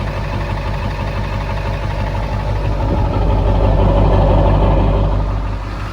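A 2020 truck engine running at idle, a loud, steady low rumble close by that swells slightly in the middle and holds without a break.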